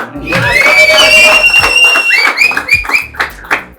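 Audience at a dental clinic celebration event applauding and cheering, a burst of clapping and raised voices close by with a tonal whistle or shout over it, fading after a few seconds.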